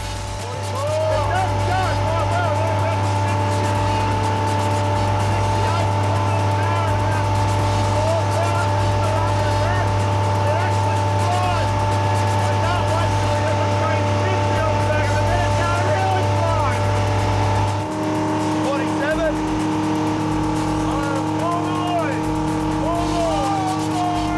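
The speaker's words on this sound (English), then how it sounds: "The old Chevy V8 hanging together long enough for us to get a full set of data." An old Chevy V8 boat engine roars at full throttle, loud and sustained, at about 37 knots, with a slight shift in pitch partway through and water rushing beneath.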